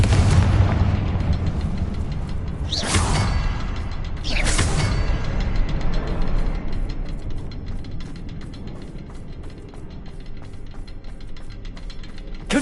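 Two booming fire-spell explosions from Confringo in Hogwarts Legacy burst out early, each a sharp broadband blast, over a steady rumbling, clanking mechanical background that carries on after them.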